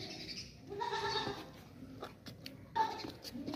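A dairy goat bleats in a few short, fairly close calls, with a quieter bleat near the end, against faint background noise.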